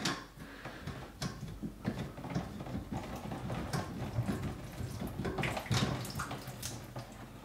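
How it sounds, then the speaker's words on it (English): Trapped water from a clogged bathroom sink drain dumped out, splashing and sloshing continuously, with irregular pours and gurgles, close by and fairly loud, with no talking. "go ahead and dump that water out"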